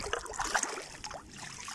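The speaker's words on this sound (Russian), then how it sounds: "Ну, сейчас помутим воду." Shallow water in the Silinka river is churned and stirred by hand, giving a close, continuous splashing and gurgling wash with small irregular surges.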